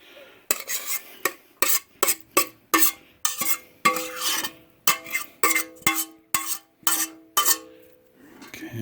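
Potato salad being stirred and folded with a stiff spatula in a bowl, a series of distinct scraping, clacking strokes in a steady rhythm, close and fairly loud with no talking.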